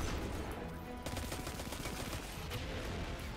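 Rapid gunfire in the Destiny 2 video game, a dense continuous volley of automatic shots crackling and booming over a few seconds, loud and close with no talk.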